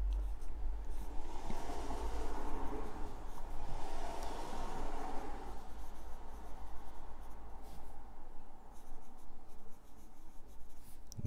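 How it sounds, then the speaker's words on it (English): A Lamy Safari fountain pen with a medium nib writes on paper, producing a close, continuous soft scratching that goes on steadily throughout. "I'm very happy with the way that this particular Lamy medium nib writes"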